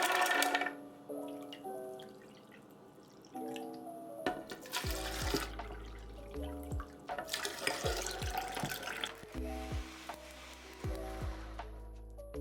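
About two liters of water is poured for soybean milk made from 200 grams of beans. Several splashing, gushing bursts come over steady background music.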